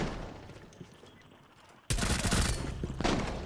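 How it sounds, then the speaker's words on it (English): Shotgun fire in the Rainbow Six Siege video game, an abrupt loud blast followed by dense crackling gunfire and a second burst shortly after, with faint game sounds before it. "Il t'a donné un coup de shotgun?"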